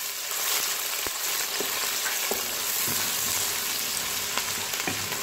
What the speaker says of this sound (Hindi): प्याज को हल्का ब्राउन होने तक हम फ्राई करेंगे